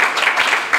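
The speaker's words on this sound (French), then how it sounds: "On peut applaudir quand même." Audience applause at a school competition show between two colleges, a short dense burst of clapping and cheering that stays loud and steady throughout, with no clear speech over it.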